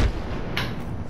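A frag grenade goes off in the Apex Legends video game, giving a short, loud, muffled boom with a low thud and a brief crack partway through.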